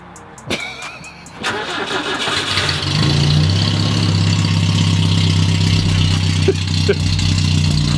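A BMW E21 with the rear exhaust box removed cranks over after a few clicks and catches, settling into a loud, rough, droning idle close by, with people talking around it.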